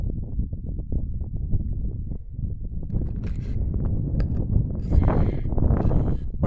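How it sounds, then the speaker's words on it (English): Wind gusts outdoors in open country, producing a continuous low rumbling buffet against the microphone with irregular surges. It is fairly loud and heard alone. "Of course, the wind's going to start blowing."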